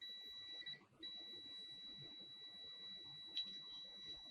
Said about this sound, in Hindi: अगर मैं बजर में रखूं तो देखिए ये साउंड भी आ रहा होगा